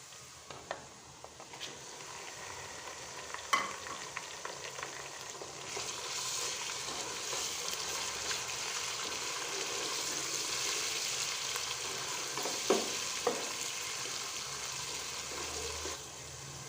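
Minced meat (qeema) with whole spices sizzles steadily in a hot pan, a continuous bright crackle with occasional clinks of a spoon stirring, and no talking.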